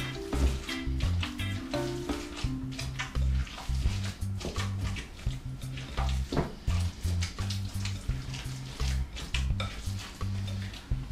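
Meatball mixture being mixed by hand for crockpot meatballs, a steady run of wet squishing and kneading sounds with soft clicks, close and continuous, over a low droning hum in the background.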